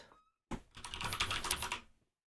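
Rapid typing on a computer keyboard in a bughouse chess match chat, a fast close burst of key clicks lasting about a second and a half, then silence.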